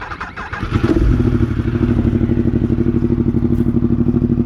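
A Yamaha R1M sport bike, near stock with a slip-on exhaust, cranks and fires up, then settles into a loud, close, rapid pulsing idle that continues steadily to the end.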